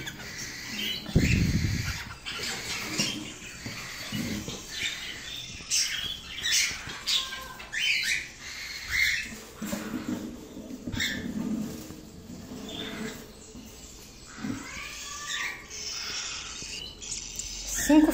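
Harlequin birds, a grey male and a cinnamon female, in nests give scattered squawks and soft chirps close by, amid rustling and handling noises, with occasional faint talk.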